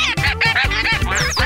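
Cartoon duck from Pocoyo quacking in a rapid run of about six nasal, buzzy quacks, loud and close, with a short high squeak near the end and no talking.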